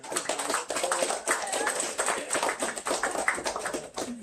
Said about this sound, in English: If you don't mind, hold your applause.